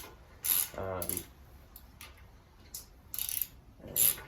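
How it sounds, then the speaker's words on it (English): A ratchet clicks in short bursts while removing the brake calipers from a Harley Davidson motorcycle, with quick metallic clatter and a few sharp ticks close by, separated by quiet pauses. "So we'll take off these calipers here."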